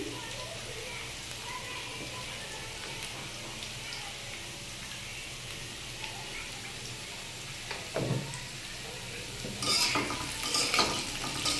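Potato pieces and soybean chunks fry in oil in a pan with a continuous soft sizzle, stirred with occasional utensil scrapes and clinks that grow louder near the end.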